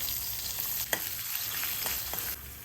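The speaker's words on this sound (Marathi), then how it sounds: "आता कढीपत्त्याची पानं घालूया" Curry leaves and slit green chillies crackle in hot tempering oil seasoned with asafoetida for a dhokla. A steady, close sizzle runs throughout, with sharper pops and crackles bursting out along the way and no voices.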